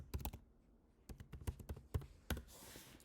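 Computer keyboard typing, a quick run of close, crisp key taps in short bursts with brief pauses, heard alone.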